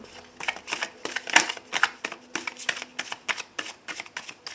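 Tarot cards shuffled by hand in repeated quick riffling bursts, close and crisp, each rustle spaced about a third of a second apart, with no voices over them.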